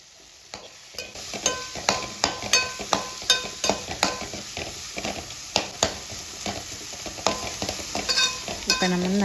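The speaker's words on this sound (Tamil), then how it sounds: "இப்போ நம்ம நல்லா தக்காளி வெங்காயம் நல்லா வதங்கிருச்சு" Tomato and onion sauté in a pan under busy, rhythmic stirring: a dozen or more sharp spoon scrapes and knocks over a steady sizzle, close up and with no speech.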